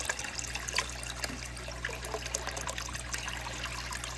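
Water running into a bucket for fish tanks: a steady trickling and splashing stream with a constant low hum underneath, fairly close, with no one talking.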